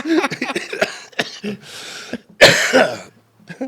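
Several harsh coughs and throat-clearing bursts, close and loud, separated by short pauses and breaths.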